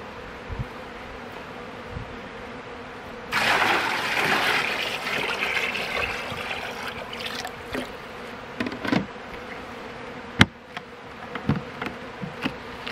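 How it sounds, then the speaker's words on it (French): A steady honeybee buzz hums close by at a hive, swelling louder after a few seconds, with occasional sharper passes and taps over the drone. "les abeilles vont être beaucoup plus actives"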